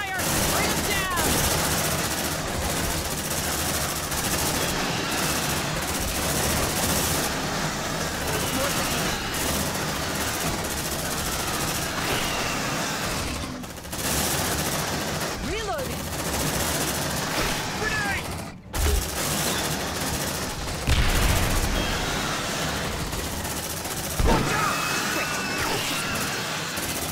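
Sustained gunfire in the video game Aliens: Dark Descent: dense, continuous automatic fire and explosions from a close firefight, loud throughout with a brief break near the middle, while voices shout over it.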